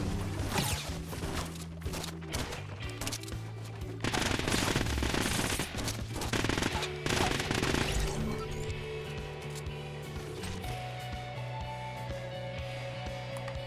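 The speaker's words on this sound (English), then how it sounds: "since we got in that gunfight" Gunfire in a Fortnite Battle Royale gunfight, with rapid bursts of automatic shots and sharp cracks, loud and dense, along with crashing and breaking impacts from structures.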